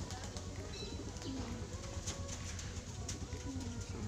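Many pigeons cooing together, a continuous soft chorus of low coos with occasional chirps and wing sounds, somewhat distant and faint.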